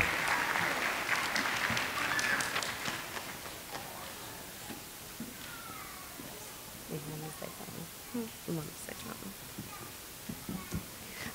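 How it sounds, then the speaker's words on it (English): An audience applauds at a pre-K and kindergarten graduation with a burst of loud mixed clapping that fades after a few seconds. Scattered voices and a few children's voices follow under quieter room noise. "Let's give her a round of applause."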